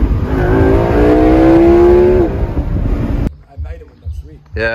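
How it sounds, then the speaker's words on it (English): A Lamborghini accelerates hard in second gear, heard loud and close with a rising engine note and wind noise. After about three seconds the engine fades and people start talking. "It's the second gear pull, bro."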